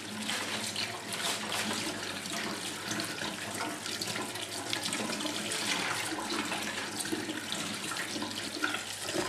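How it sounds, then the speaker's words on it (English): Tap water running steadily over quinoa being scrubbed by hand to rinse off its saponin, a constant close rushing and splashing at the sink with no talk. "as you can see, the water just rinsing and rinsing through"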